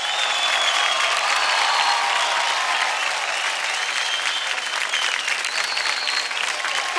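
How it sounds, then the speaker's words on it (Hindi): Loud, sustained audience applause fills a dance show hall, a dense steady roar of many hands clapping with faint crowd noise underneath, continuing evenly throughout. "एक बार फिर से इन सब के लिए जोरदार तालियां"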